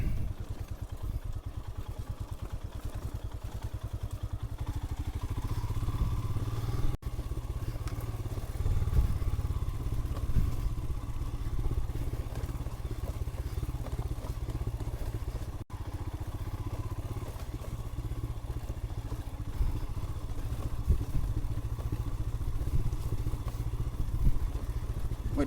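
A Royal Enfield Himalayan motorcycle engine drones steadily at low revs, engine-braking down a slick wooded trail on the Blue Ridge loop, with occasional clatter and thumps from the rough ground throughout.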